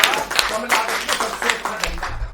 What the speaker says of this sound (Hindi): जोरदार तालियां बजाकर उन्हें बुला दें।